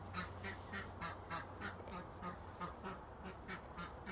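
Backyard ducks quacking and honking in a rapid, evenly spaced series of calls, moderately distant and steady over a low background hum.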